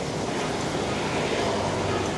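Continuous wind and surf at a beach in Da Nang, Vietnam, a loud, steady broadband roar close to the microphone, with wind buffeting and no clear speech.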